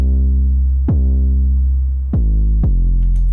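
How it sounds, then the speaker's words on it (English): Solo electronic bass pattern played back in Cubase: deep sustained synth bass notes with a few sharp note changes, loud and alone, with no talking. "let's say I have this pattern of the bass that sounds like this."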